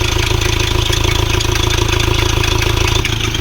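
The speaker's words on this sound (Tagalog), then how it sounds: "so aandar na ang makina ngayon. At pansin natin ngayon ay nagkurog-kurog pa ang andar" A 2024 Ford Ranger 2.0 engine with a wet timing belt fault idles roughly nearby, a loud, uneven rattling rumble with a steady shaking pulse, no voices over it.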